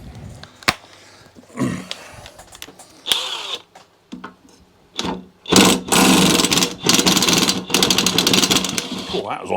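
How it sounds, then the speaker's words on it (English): A 1/2 inch impact wrench works bolts loose on a lawnmower in loud, close bursts of rapid hammering rattle, broken up by pauses and shorter clicks, with people talking nearby. "I'm going to use my 1/2 inch impact to do so."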